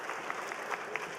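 An audience claps in a brief, fairly faint burst of scattered applause, a light patter of hands heard from a distance.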